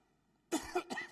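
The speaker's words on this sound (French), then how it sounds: "pardon, parce que je tousse" A short burst of coughing, two or three harsh hacks close to the mic after a moment of near silence.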